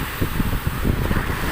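Waves wash and slosh against a boat amid gusty wind noise on the microphone, a rough, continuous rushing sound.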